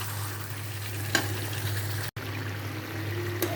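Chicken sizzling and frying in a pan during home cooking, a steady close crackle with a low hum underneath and occasional stirring scrapes, with no talking.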